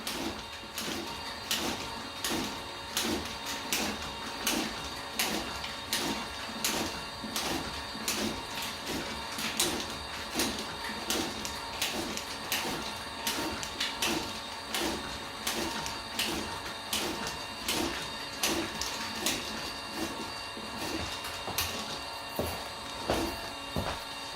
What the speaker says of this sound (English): Now I have to start the conveyor belt for the input feeder to separate the products onto the conveyor belt.